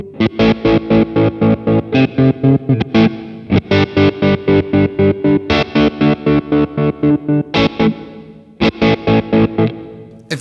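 Guitar through an MXR tremolo pedal on its square wave setting, chopping sustained chords into hard on-off pulses in a steady fast rhythm, loud and close with a distorted edge and no voices.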